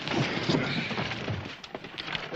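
Horse hooves clip-clop on the ground in a quick, uneven run of thuds, heard close in a busy Western setting with a faint voice in the background.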